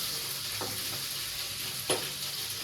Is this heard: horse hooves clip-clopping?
no